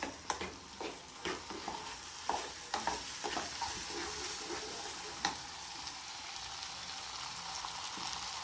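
Food frying and sizzling in a pan for a Haitian home-cooked dish, with a steady crackling hiss broken by sharp clinks and stirring knocks near the start.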